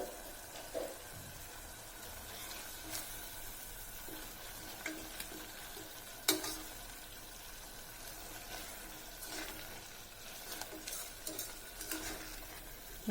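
Tomato rice being stirred in a pan, a spoon scraping the sides with soft scrapes and taps over a faint steady sizzle, fairly quiet and close.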